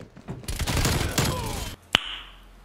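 Gunfire in the shooter game Call of Duty Black Ops Cold War: a dense rapid burst of automatic shots, then a brief pause and a single sharp loud report with a ringing tail, heard close with no voices.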